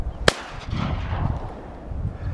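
A single sharp shotgun blast rings out near the start during a duck hunt on the Cape Fear River, followed by a decaying echo and low outdoor rumble.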